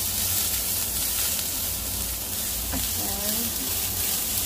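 Garlic sizzling and frying in a pan as it is stirred, a steady loud hiss throughout with a brief scrape and a voice speaking over it.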